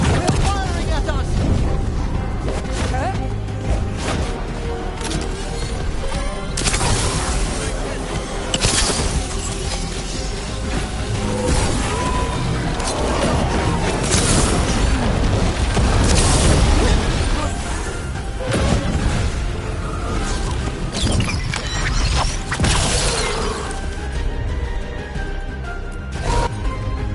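Enemy gunfire and explosions in Dragon Age: The Veilguard make a loud, continuous barrage of booms, crashes and shattering impacts over a dense battle rumble. Voices shout now and then in the mix.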